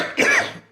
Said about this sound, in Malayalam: 10 ദിവസമായി എനിക്ക് ഈ ചുമ വന്നിട്ട് മാറുന്നില്ല.